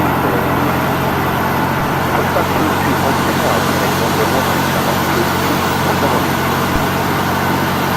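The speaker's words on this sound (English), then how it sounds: "Start number 2 engine." A Boeing 737NG's number 2 engine spools up in a steady, loud, broadband roar heard from the cockpit, with flight crew talk running over the engine noise.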